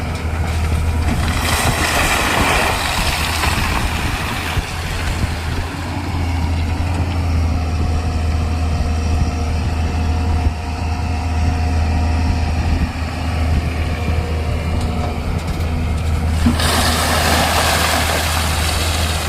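A river-cleaning machine works on the bank of the Kali river in Uttarakhand, giving a continuous low engine drone that holds steady from start to finish with no talk over it.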